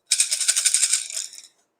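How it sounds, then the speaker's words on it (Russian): Maracas shaken steadily by hand for about a second and a half, a close, bright, even rattle of beads with no talk over it. "маракасы"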